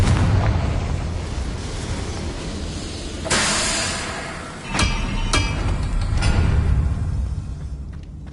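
A Confringo fire spell in Hogwarts Legacy bursts with a loud, booming blast, followed by several sharp cracks and a rumbling roar that trails off over a steady ambient game backdrop.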